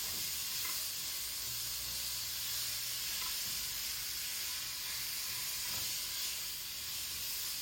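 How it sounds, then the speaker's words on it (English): Meat frying in a pan while being chopped with a spatula, giving a steady loud hiss and crackle with faint scraping and stirring, close up and without talk. "I'm just kind of chopping up the meat, letting it cook."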